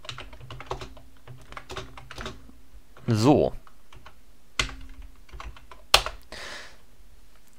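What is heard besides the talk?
computer keyboard typing while writing JavaScript code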